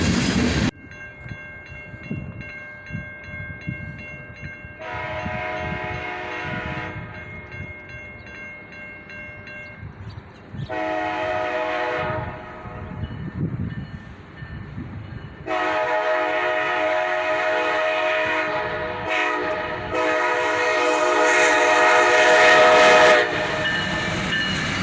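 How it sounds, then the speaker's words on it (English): CSX freight train led by an SD70AH Tier 4 locomotive, CSX number 1, passing close and loud, with several long chord horn blasts over rumbling wheels and rising engine noise. "This train is led by an SD70 AH Tier 4 and CSX number 1, the Spirit of West Virginia."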